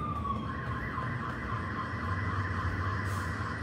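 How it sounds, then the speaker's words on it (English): Emergency vehicle sirens wail outdoors, several overlapping at different pitches, a steady rising and falling tone held for the whole stretch over a constant roar of traffic. "More sirens."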